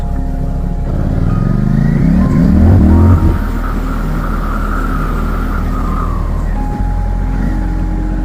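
Motorcycle ride to the gym in New Zealand: a close, loud engine drones steadily, with a brief rising rev early on and then a constant running hum and wind, with no talking.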